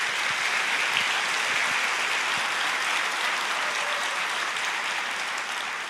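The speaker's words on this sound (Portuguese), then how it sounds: "pode aplaudir" A church congregation applauding, a dense, even roar of clapping that holds steady throughout and fades only slightly at the end.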